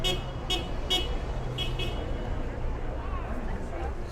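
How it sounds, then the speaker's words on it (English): Several short car horn toots sound at a street rally in Seattle's Chinatown International District, repeating irregularly over a busy background of crowd babble and passing traffic. "well, I guess that beeping is to show support."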